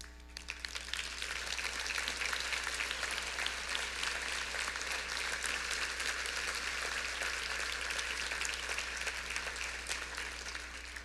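A large audience at an annual Arizona Hispanic market conference applauds elected officials, sustained broad clapping that fills the room evenly from start to finish with a low steady hum beneath.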